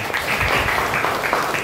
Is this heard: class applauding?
yes